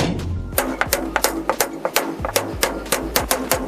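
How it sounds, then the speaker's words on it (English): A center punch is tapped into screw spots on a truck tailgate for a ladder install, a rapid series of about fifteen sharp metallic clicks in an uneven rhythm, close and clear. "Center punch each one of these."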